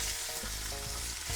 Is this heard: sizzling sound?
yes